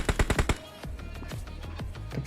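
A short burst of about five sharp automatic gunshots in a shooter video game cracks loud at first, then gives way to fainter scattered shots and rumble.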